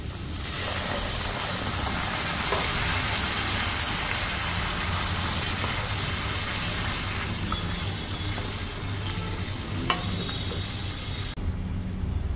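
Water poured into a pan of fish frying with spices, giving a loud steady sizzling hiss that holds for the whole stretch, with a brief clatter near the end.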